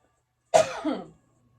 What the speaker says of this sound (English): I was not coughing before this